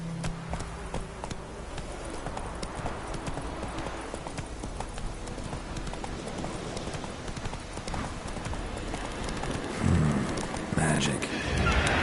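A horse gallops in The Witcher 3 game, its rapid clip-clop hoofbeats running steadily and close throughout, with a brief swell of extra noise near the end.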